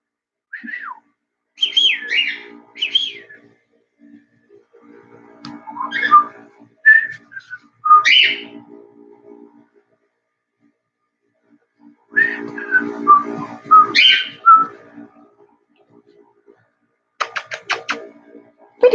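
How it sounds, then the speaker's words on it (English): A pet bird chirps and whistles indoors, close and clear, in several bursts of varied whistled notes separated by short silences. "I don't care if you chirp, but the squawk has to stop"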